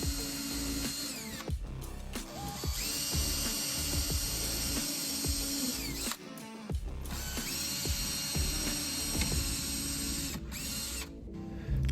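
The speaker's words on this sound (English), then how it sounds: "drilled small pilot holes through each of our openings" A power drill bores small pilot holes through clamped aluminum guards on a Ford Model A luggage trunk build, whining steadily and loudly up close, broken by a few brief stops between holes.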